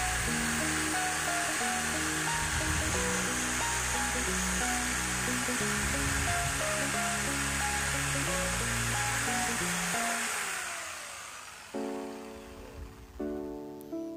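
An NRT PRO JS80HD jigsaw cuts a curved line, its motor whining steadily and loud with a rapid reciprocating buzz for about ten seconds, then it slows and stops and restarts briefly in short bursts near the end.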